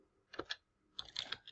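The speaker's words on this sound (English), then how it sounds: "excuse my typing." Two short bursts of computer keyboard typing, quick clustered key clicks close by, separated by a brief pause.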